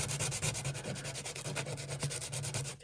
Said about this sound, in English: Take my piece of sandpaper and just work it